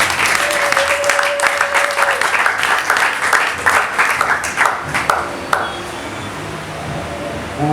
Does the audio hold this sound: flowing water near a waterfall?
no